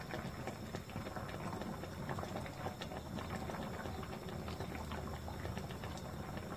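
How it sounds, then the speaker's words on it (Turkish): Mushroom culture medium boiling steadily in a pot for an Agaricus campestris tissue culture, a dense continuous bubbling and rumbling that stays even and close throughout with no voices. "Ara ara karıştırarak yarım saat kaynatacağız."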